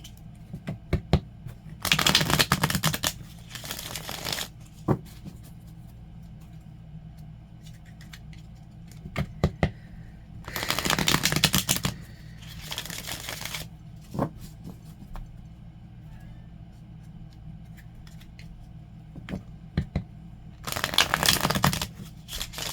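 Tarot cards riffle-shuffled in three separate bursts of crisp papery flutter, each lasting a couple of seconds, with quiet pauses and faint taps between them.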